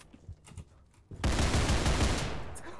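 Gunfire in the Roblox game Criminality. A few faint knocks give way to a sudden loud, sustained burst of shots and roaring noise that lasts over a second before easing slightly.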